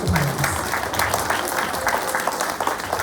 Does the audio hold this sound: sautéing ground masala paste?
no